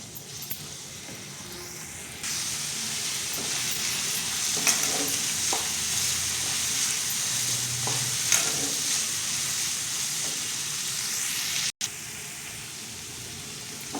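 Beetroot stir-fry being stirred in a hot pan, a steady close sizzle with repeated scraping strokes of the spoon against the metal, fairly loud and continuous, with no voices.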